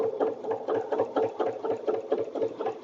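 A sewing machine stitching edge-to-edge quilting runs in a quick, steady rhythm of close, even pulses, with no talking.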